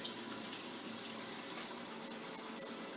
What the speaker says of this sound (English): we're gonna just rinse off the outside because it's all